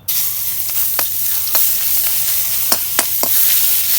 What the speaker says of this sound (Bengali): তেল গরম হচ্ছে এখন পেঁয়াজ দিব